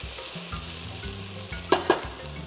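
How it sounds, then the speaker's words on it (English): Onions and garlic fry in a pan with a steady soft sizzle under faint background music, broken by two sharp scraping stirs near the end. "Let the onions and the garlic caramelize a little until the onions become translucent and a little brown in color"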